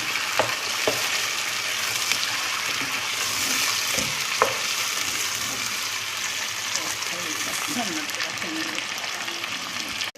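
Chicken frying in a pan for palak chicken sizzles steadily while a spoon stirs and scrapes through it, with a voice speaking now and then over the cooking.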